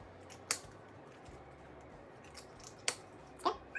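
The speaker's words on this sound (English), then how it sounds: "keeping that card right up on the screen, you can go ahead and cut it in 4 pieces" Scissors snip through a card to cut it into four pieces, giving three short, crisp cuts spaced apart in an otherwise quiet room.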